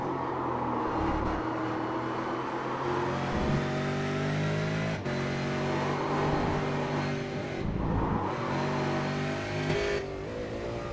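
Onboard a race car driven by David Martinez at Oran Park, engine roaring loud and continuous with rising and falling revs through gear changes and corners.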